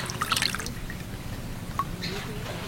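Water drips and trickles off freshly washed taro leaves in a few quick, light splashes, close by and fairly quiet over a low background hum.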